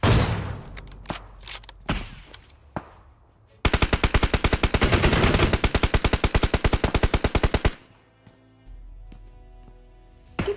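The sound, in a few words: gunfire in the video game Battlegrounds Mobile India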